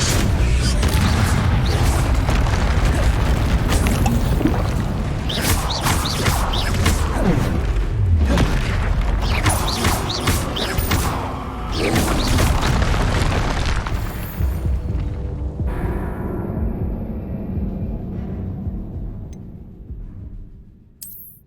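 Incendio fire spell bursts in Hogwarts Legacy erupt as a dense run of loud booms and crackling blasts, then the din thins and fades into a quieter low rumble toward the end.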